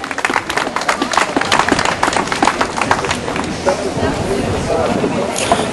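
An audience applauds at a sports demonstration, with dense, continuous clapping from a crowd that holds steady and fairly loud, and voices mixed in.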